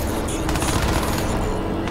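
Gunfire from the video game Crysis 2, a dense burst of rapid shots and impacts filling the whole stretch at steady loudness with no clear pauses.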